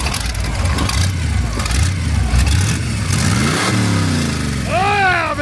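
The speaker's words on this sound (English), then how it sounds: "You rev it just a little bit." 1931 Ford Model A engine revved a little at an outdoor classic car gathering, loud and close with rising and falling throttle, crowd noise and voices around it.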